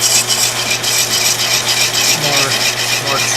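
A hand tool chamfers the edge of a small metal engine greaser part, producing a continuous, close, loud rasping scrape with a rapid rhythmic stroke pattern and a low steady hum underneath.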